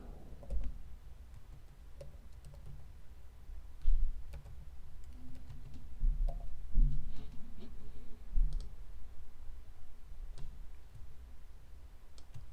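Computer keyboard typing while entering text in Adobe Illustrator 5, soft scattered clicks and taps at close range over a low background hum, with no voices.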